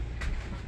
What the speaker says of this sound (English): That's the garbage truck.